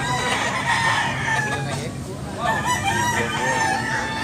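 A rooster crows loudly nearby at a cockfighting rooster market, a drawn-out call followed by another crow, with clucking and faint background chatter around it.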